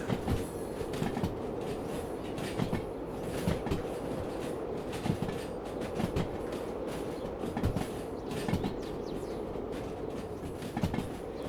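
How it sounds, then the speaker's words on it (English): A diesel freight train in the Derail Valley game rolls along steadily, slowing on its own. A continuous rumble is broken by rhythmic wheel clicks over rail joints. "Train naturally slowing down."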